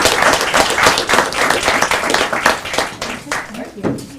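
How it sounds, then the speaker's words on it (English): A school board meeting audience applauds silver medal winners with a round of loud, close clapping that carries steady bursts of hand claps and some crowd noise, tapering near the end. "We'll give them a round of applause."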